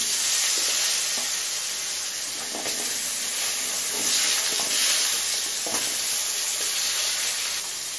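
Potatoes fry in hot oil with cumin and bay leaf, a loud continuous sizzle and hiss close by, broken by a few stirring scrapes, with no voices.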